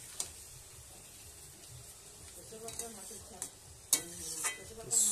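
A curry of ridge gourd and snake gourd simmers in water in a pan, giving a faint, steady bubbling hiss with occasional clinks of a utensil.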